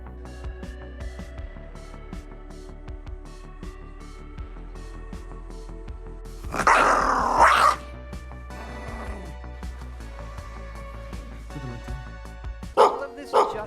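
Dogs barking in the game Fallout 4, a few sharp bursts breaking through steady game music and a voice talking throughout.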